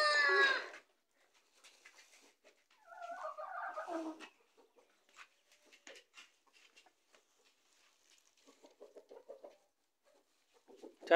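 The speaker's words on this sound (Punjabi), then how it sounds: "ਮੈਂ ਮੁਰਗੀਆਂ ਨੂੰ ਦਾਣੇ ਪਾਉਣ ਲੱਗਾ" Chickens cluck intermittently while being fed grain: a few soft, scattered clucks and short calls near the microphone, separated by quiet pauses.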